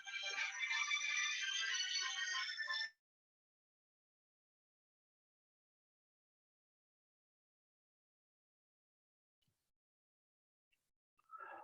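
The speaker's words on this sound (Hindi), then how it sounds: "शुक्ला सर का फोन।" A bright, tonal electronic phone ringtone plays for about three seconds, then cuts off into silence; a faint sound returns at the very end.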